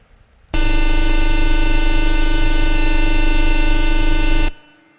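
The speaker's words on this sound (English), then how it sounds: "This is the noise of a conventional external gear pump." A conventional external gear pump runs steadily at close range, a loud, dense whine with strong tonal harmonics that holds for about four seconds before cutting off abruptly.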